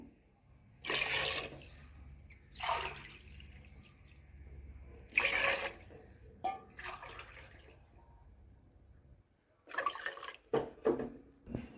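Four tumblers of water pour in separate splashy bursts into a pot with rice for egg biryani, close by, with quiet gaps between pours and a steady low hum underneath.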